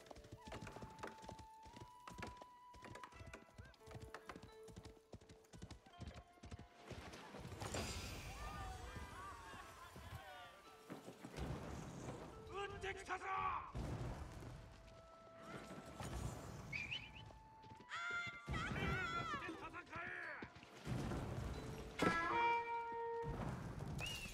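Hoofbeats of mounted horsemen in a strategy video game, a rapid run of clopping beats at the start, then busy battle clatter with neighs and thuds while someone talks over it.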